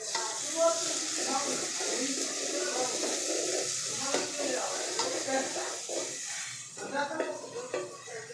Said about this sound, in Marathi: आता अद्रक लसूणचा पेस्ट टाकायचा.